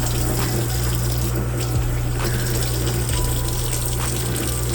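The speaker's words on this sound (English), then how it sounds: "You need to rinse your mouth." Steady running water pours from a tap, a continuous loud gushing close by, while someone rinses their mouth after eating a very spicy chip.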